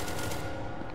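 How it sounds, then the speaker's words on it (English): Rapid automatic gunfire in the video game SCP: Secret Laboratory, a dense continuous burst of shots that fills the brief moment at steady loudness, with no talk over it. "Oh, now they're shooting."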